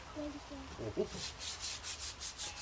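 Hand sanding with 220 grit sandpaper during garden tool maintenance, a steady rhythmic scratch of repeated back-and-forth strokes, close and fairly quiet, after a few brief faint sounds at the start.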